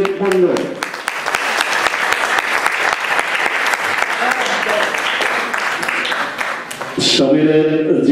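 Loud, sustained applause from the audience at a Bijoy Dibas cultural program in New York as Samir Mondal is called to the stage; many hands clap densely while a voice speaks over it, then the clapping stops near the end and a voice takes over.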